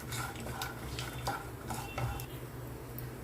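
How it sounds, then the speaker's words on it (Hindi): Peanuts frying with cumin seeds in a pan, a steady close dry rattle and clatter with intermittent scrapes of a spoon against the metal, no voices. "अब इसमें हम मूंगफली डाल देते हैं और इसको फ्राई कर लेते हैं।"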